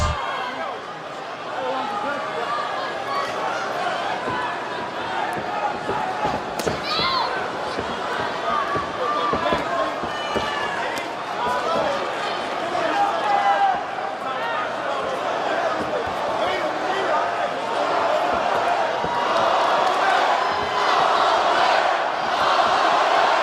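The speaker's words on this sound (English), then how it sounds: "Atlanta crowd trying to get behind Max Holloway here." An arena crowd at a UFC fight in Atlanta roars and cheers continuously through the fifth round, a dense sustained swell beneath a commentator talking.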